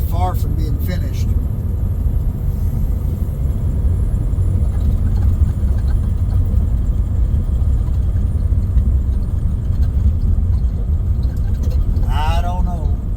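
A vehicle rolls along the gravel Elliott Highway in Alaska through a construction zone, a steady low rumble of tires and engine throughout, with someone talking briefly near the start and end.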